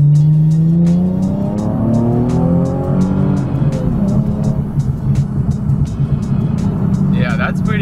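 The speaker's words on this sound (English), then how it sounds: "Let's do a quick second gear pull." A modified car accelerates hard through second gear, engine note sweeping upward then settling into a rough, loud drone close by, with a short sharp whine near the end.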